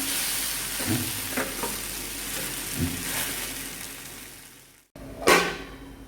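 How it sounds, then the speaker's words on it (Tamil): Spicy potato fry sautéing in a pan, a continuous sizzle with occasional stirring scrapes, a brief gap, then a louder stir. "இந்த ராஸ்மல் போகிற அளவுக்கு நல்லா சுருளாக வதக்கி எடுத்துடலாம்"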